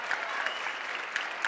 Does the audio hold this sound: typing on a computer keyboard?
no